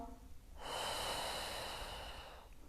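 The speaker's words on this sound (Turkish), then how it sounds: "Al nefes, ver." A deep breath is drawn in and let out during prenatal wall pilates, a soft close airy rush lasting about two seconds and swelling then fading, heard alone.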